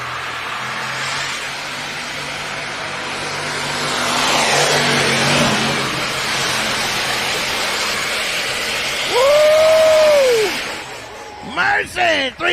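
An old diesel pickup truck roars under heavy load at a nighttime truck pull, its engine droning loudly and steadily for several seconds. Then it winds down, and an announcer's voice comes over the loudspeaker at the end.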